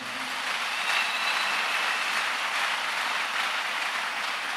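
A church congregation claps together during a French-language worship service, a dense, steady wash of applause that holds at an even level from start to finish.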